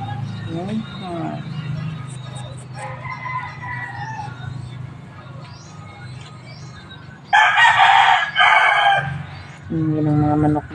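Several loud rooster crows ring out close by, with chickens clucking in the background and a person talking quietly at times.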